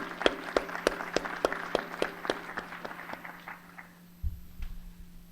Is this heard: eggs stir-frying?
no